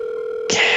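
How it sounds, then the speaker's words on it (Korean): A mobile phone ringback tone holds steady and even, then is abruptly replaced by a loud burst of hiss-like noise. "핸드폰이 신호만 가는 거예요."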